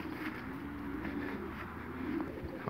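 Pigeons at a pigeon loft, soft cooing calls repeating intermittently over a faint outdoor background with low rumble, fairly close but quiet.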